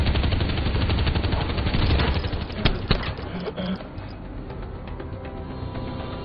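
Gunfire in a film shootout scene, dense rapid bursts of shots under continuous background noise, loudest early and thinning out toward the end.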